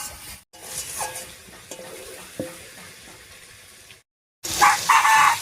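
Chicken slowly sautés in a pan for a jackfruit chicken curry, giving a steady close sizzle with occasional stirring scrapes and clicks. It cuts briefly to silence, then returns as a louder, brighter frying hiss.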